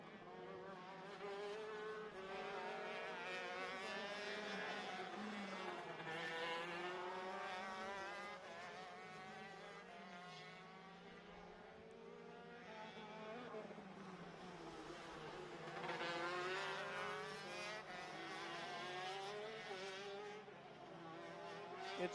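Shifter karts race through a tight S-section of the Sonoma kart track, their high-revving two-stroke engines buzzing and whining in overlapping waves as they pass, loud and continuous with rising and falling pitch.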